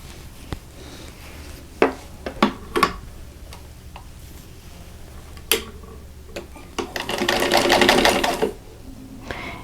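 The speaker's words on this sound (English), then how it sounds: "now I need to sew squares onto the opposite corners" Sewing machine stitching squares onto the corners of a quilt block, a fast steady needle chatter swelling loud near the end, with scattered clicks and taps of handling fabric before it.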